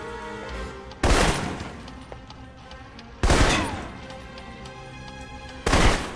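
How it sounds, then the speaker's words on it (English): Assault rifle gunfire in the video game Alpha Protocol, three loud separate bursts of shots about two seconds apart, each sharp crack ringing out over a quieter game background. "For long-range encounters, the assault rifle's the key"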